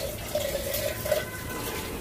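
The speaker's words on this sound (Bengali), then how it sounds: "হালকা একটু জল দেবো" A little water poured into a cooking pot on the stove makes a brief, close splashing trickle for about a second, alone with no talk.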